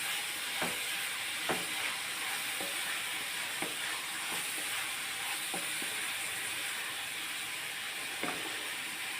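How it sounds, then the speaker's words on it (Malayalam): Onions sauté in a pan with ginger, garlic and chillies for a fish egg dish, producing a steady close sizzle with occasional soft clicks of stirring and no talk. "ഒരു ബ്രൗൺ കളർ നിറമാകുന്ന വരെ ഒന്ന് വഴറ്റും."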